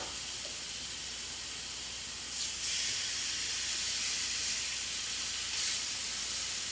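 Skirt steak sizzles in hot oil in a pan, giving a steady broadband hiss. It jumps louder partway through and keeps going with small surges, with no voices.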